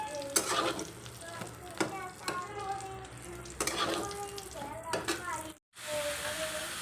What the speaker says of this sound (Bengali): ডিমগুলোকে পিস পিস করে একদম কেটে নিয়েছি আর এই যে রান্না করছি